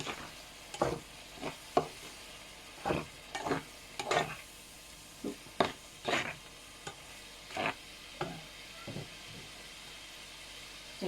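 Peanuts tossed and stirred in a hot sizzling pan for Thai chilli-paste spaghetti, with a run of sharp scraping stirring strokes at an irregular rhythm over a soft steady fry, close up and with no talk.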